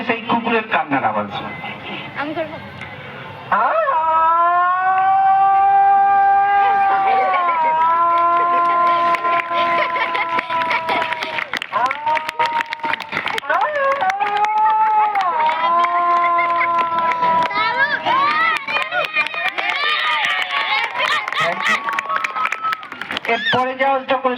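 A voice imitates a dog crying and howling: after a short quieter stretch come loud, long, wavering howls that rise and fall in pitch, several drawn-out wails in a row, close and solo, ending in rougher whimpering cries.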